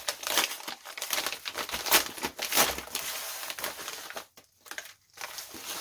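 Envelopes from a parcel of MBK 51 XR moped parts crinkle and rustle as they are unpacked, in close, irregular bursts of paper and plastic crumpling with short pauses between.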